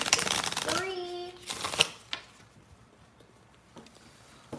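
A deck of cards is riffle-shuffled during a board game playtest. One loud, fluttering burst of shuffling is followed by a few quieter taps and card clicks.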